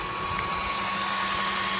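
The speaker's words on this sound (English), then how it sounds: "I'm a driller. Way to drill that." A cordless power drill runs in a steady high whine as it drives screws while a cargo box is installed, one unbroken close burst with no talking.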